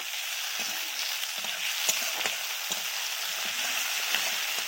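Green chillies, garlic paste and chopped tomatoes fry in a pan with a steady, close sizzle, broken by small crackles and a few soft stirring clicks, with no one talking.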